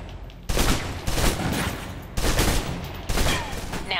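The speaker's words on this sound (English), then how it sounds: "let's move on to the submachine gun. Now let's empty the clip." Submachine gun fired in the video game Alpha Protocol, three rapid full-auto bursts separated by short pauses, loud and close.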